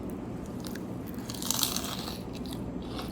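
Crunchy bites into a crispy fried chili fritter stuffed with cumin and salt, a burst of close, dry crackling in the middle amid steady chewing and background rustle, with no talking.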